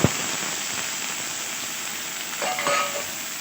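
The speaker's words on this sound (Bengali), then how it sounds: "এবার কেটে রাখা আলুটা দিয়ে দিলাম" Thinly cut potatoes just added to hot oil give a steady broadband sizzle, swelling slightly toward the end with light crackling, close by and without speech.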